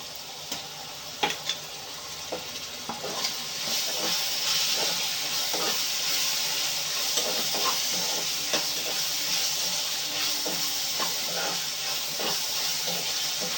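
Ginger-garlic paste added to browning onions in a hot pan sizzles with a steady broad hiss that rises after a few soft taps and clinks at the start, then continues evenly.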